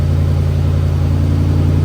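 A 2005-2009 Ford Mustang GT V8 fitted with SR Performance coil packs idles steadily, a loud, close, even low rumble with a constant throb and no change in pitch, no voices.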